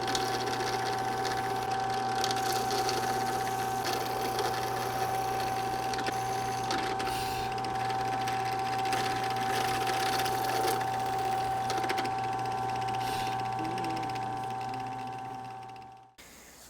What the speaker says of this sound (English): drilling the large hole first is going to give us a center point right in the dead center of that recess